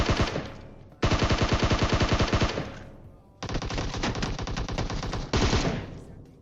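Rapid automatic rifle fire in the mobile battle-royale game PUBG Mobile comes in three loud, sustained bursts with brief pauses between them, close and harsh.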